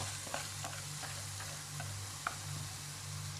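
Rice and bulgur sizzle quietly in a pan with sautéed onion and tomato paste, with soft, sparse ticks of a spoon stirring over a low steady hum.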